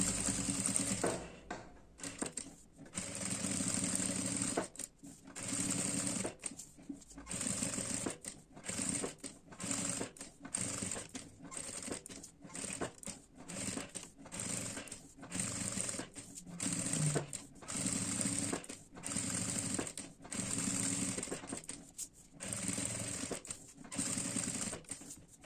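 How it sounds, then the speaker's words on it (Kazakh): A sewing machine runs straight stitch along the edge of a fabric ornament, close and steady, in repeated bursts of rapid mechanical whirring with short pauses between runs. "Жаңа сіздерге оюдың шетін тік-тікіспен тігуді көрсеттім."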